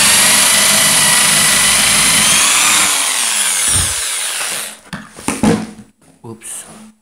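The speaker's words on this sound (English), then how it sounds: "I drilled that hole" A power drill bores a hole in melamine-faced wood with a loud, steady whine that winds down after a few seconds. Clatter and handling noises follow, then a voice speaks.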